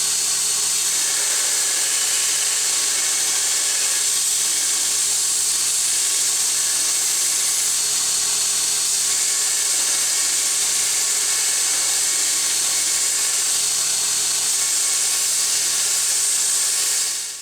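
A power grinder works steadily on metal, cleaning up a pocket so a bolt will fit, holding one even, continuous high-pitched whine close by for the whole stretch with no talking.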